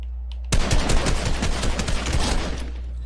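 Rapid automatic gunfire in the Fortnite battle royale video game rattles out as a dense, loud stream of shots lasting a few seconds, heard alone over a low steady game hum.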